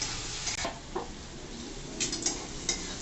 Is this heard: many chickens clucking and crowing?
no